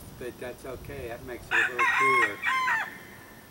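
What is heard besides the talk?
rooster crowing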